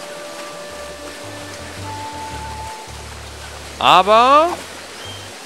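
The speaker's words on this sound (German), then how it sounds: "Jedes Mal in gottverdammten Videospielen, wenn irgendwo ein Wasserfall ist, ist es einfach tierisch laut." A loud waterfall in the video game Monkey Island 2 roars as a steady, rushing hiss beneath bass-heavy game music, with someone briefly talking near the end.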